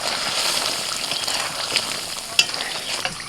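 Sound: egg masala sizzling in a pan as water is added

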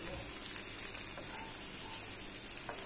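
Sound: chicken croquettes shallow frying in a pan

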